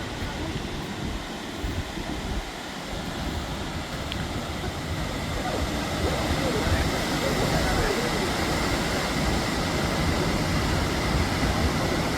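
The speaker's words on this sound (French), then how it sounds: "C'est de la cascade" Ouzoud waterfall in Morocco, about 120 metres high, gives a constant loud roar of falling water that fills the whole scene and holds steady throughout.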